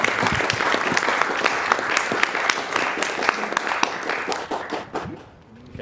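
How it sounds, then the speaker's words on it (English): Sustained audience applause at a speedrunning charity marathon, Awesome Games Done Quick 2015, dense clapping that carries on for several seconds before tapering off at the end. "Let's hear a round of applause."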